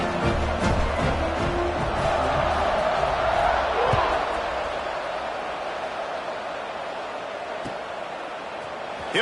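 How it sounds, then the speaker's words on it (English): Stadium crowd in the NCAA Football 26 video game, a steady broad roar of many voices that stays loud throughout and eases slightly toward the end, with no clear talk over it. "this crowd is buzzing after that last score"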